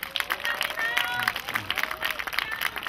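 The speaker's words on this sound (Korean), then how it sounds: "다 함께 한번 박수 한번 드리시죠" Brief, moderately loud applause from an audience at an outdoor autumn music concert, scattered hand claps with whistling tones cutting through and a voice briefly audible.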